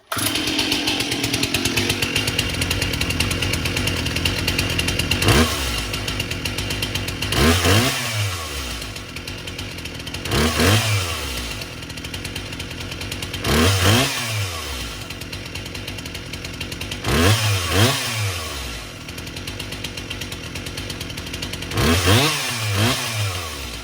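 A chainsaw engine idles roughly, then revs up loudly several times in repeated bursts, each rising and falling sharply, close by with no talking.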